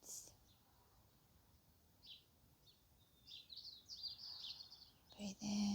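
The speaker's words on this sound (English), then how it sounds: "You can hear the birds." Birds sing outdoors in a quiet natural setting, with faint, scattered high chirps that build into a brief burst of calls near the end.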